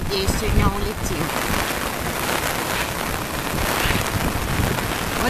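Dense, steady tropical typhoon downpour in Sanya Bay, Hainan, China, hisses continuously, with a faint voice briefly audible at the start and wind buffeting the microphone.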